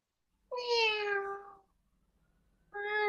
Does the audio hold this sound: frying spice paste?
no